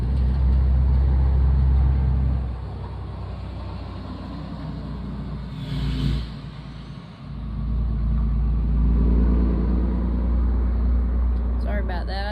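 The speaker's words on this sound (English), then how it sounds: "I didn't want to talk if y'all couldn't hear me over the vehicles passing by" Road traffic passing close by: loud, continuous rumbling of cars and engines that dips briefly mid-way and then swells again as more vehicles go past.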